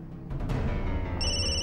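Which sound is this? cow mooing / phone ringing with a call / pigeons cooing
phone ringing with a call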